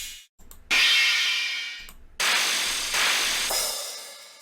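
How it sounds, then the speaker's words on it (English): A cymbal crash sample auditioned in FL Studio rings out several times, each loud bright wash of noise decaying slowly before the next hit, with no talking. "Maybe a cymbal crash."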